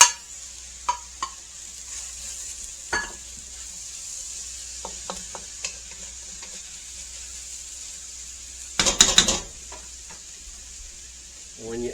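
Mushrooms tossed into a pan of frying onions give a steady, fairly quiet sizzle, with scattered clinks and scrapes from stirring and a louder clattering burst near the end.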